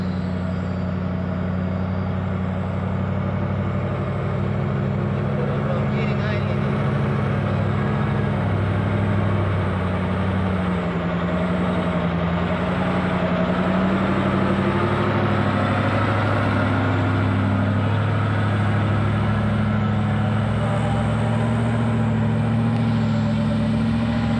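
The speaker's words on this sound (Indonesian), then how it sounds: "Driver yang menanjak di tanjakan Bukit Kodok ini tetap waspada dan berhati-hati." Heavy truck engine labouring up the steep Bukit Kodok climb in Indonesia, a loud continuous low drone that holds steady throughout, with occasional air-brake hiss and other traffic nearby.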